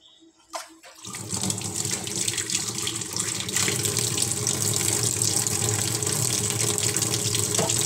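Water gushes steadily from the purge unit of an Epson L3210/L3110/L3250 ink-tank printer under repair, starting abruptly after a second of near silence and continuing as a loud, even broadband rush.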